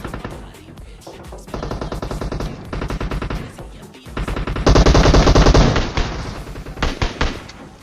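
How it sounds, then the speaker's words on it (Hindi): Rapid bursts of SKS rifle fire in a battle royale video game, loud repeated shots in several clusters with short pauses, growing denser and louder toward the end, no talking. "एसकेएस से ये साइड वाला बैरल वाला बंदा मार देता हूँ"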